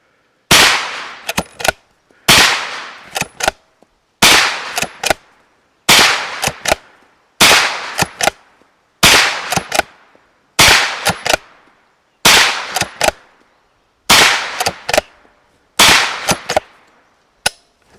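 Gunfire from a POF Tombstone 9mm lever action rifle outdoors: ten sharp, loud reports spaced about every 1.8 seconds, each followed by quick metallic clicks of the lever cycling.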